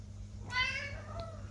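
A pet cat meows insistently while a neighbour's cat is being fed nearby: one long, rising, wailing meow up close, followed by a fainter short call, over a low steady background hum.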